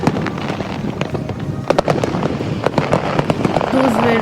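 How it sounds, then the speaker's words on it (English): Large fireworks burst at night during Qatar National Day celebrations, a dense crackling barrage with sharp repeated bangs close by, while voices talk over the noise. "Those were really giant fireworks, really very beautiful"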